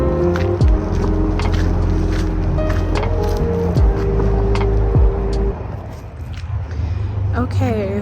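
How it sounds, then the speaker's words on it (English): A car drives along with a steady low engine and road rumble, close and loud, with shifting tones as it moves, easing to a quieter hum toward the end. "I'm just gonna drive around and see what I find."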